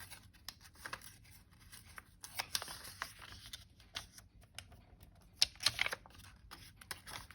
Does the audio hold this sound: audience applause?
no